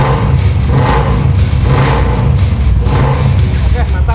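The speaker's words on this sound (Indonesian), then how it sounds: "Emang suaranya setelah Om Fahmi ganti pakai knalpot BSA, katanya ini emang suaranya agak gede ini" Royal Enfield Classic 350 motorcycle fitted with a BSA exhaust, idling and blipping with a deep, loud, throbbing beat that rises and falls in steady revs close by, with people talking over it.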